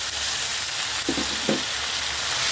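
Ginger, garlic, onion, coriander and cumin paste with salt and turmeric fries in a pan as a loud, dense, steady sizzle, broken by a few short scraping stirs.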